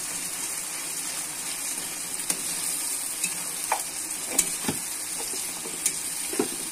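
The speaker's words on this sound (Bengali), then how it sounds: "এটা হলো লঙ্কা আর আদা পেস্ট। এখন আমরা এটাকে ভালো করে কষিয়ে নেব।" Chili and ginger paste sautéing in a pan, a steady close sizzle with scattered spatula scrapes and taps as it is stirred, no voices.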